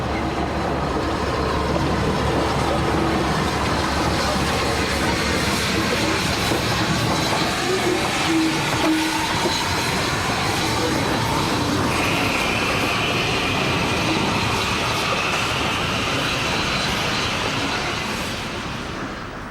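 Clan Line 35028, a Southern Railway steam locomotive, rolls along with its train in a continuous rumble of wheels and carriages, steady and moderately close, with a faint squeal rising partway through.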